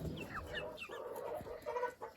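Chickens cluck and a rooster calls in a busy farmyard, overlapping bird sounds at moderate distance with no talking.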